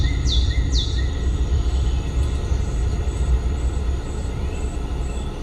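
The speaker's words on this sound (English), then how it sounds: "This is a lively forest." A Genesis G80 infotainment system plays a lively forest soundscape inside the car, with repeated bird chirps and tweets over a steady low background hum.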